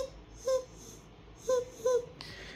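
A voice imitates a lost kitten's soft mewing for a Playmobil toy film, three brief, thin cries separated by pauses over a quiet background, then a short hiss-like noise at the end.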